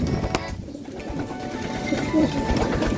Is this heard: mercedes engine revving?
no